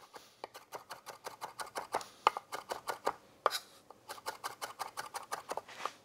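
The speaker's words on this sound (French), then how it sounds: "nous allons prendre le couteau comme ceci et grâce à l'arrondi de sa lame, nous allons nous en servir comme anciennement d'un hachoir à herbe" A chef's knife with a curved blade rocking through fresh herbs on a cutting board: quick, steady rhythmic taps, close and crisp, with a brief pause midway before the chopping resumes.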